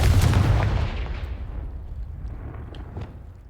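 Confringo spell explosion in Hogwarts Legacy, a single loud, close boom with a heavy low impact that decays into a fading rumble over a few seconds, with no talk.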